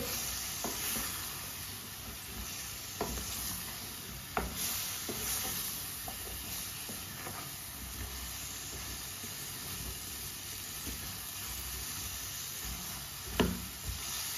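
Chopped cauliflower is stirred in a pan while preparing a cauliflower and lentil sabji, a soft continuous sizzle broken by occasional scrapes and clacks of the spoon against the pan.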